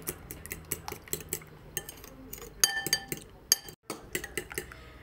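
A utensil clinks and scrapes against a bowl while eggs are whisked together with breadcrumb seasoning, giving quick irregular taps and rattles up close with a short pause partway through.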